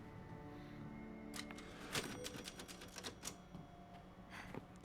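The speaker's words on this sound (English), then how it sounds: "There's a typewriter here." Typewriter keys in the video game Shadows of Rose clack in a quick irregular burst of crisp strikes, faint and close, with no talk over them.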